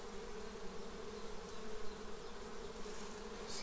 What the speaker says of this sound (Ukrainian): Скільки бджіл.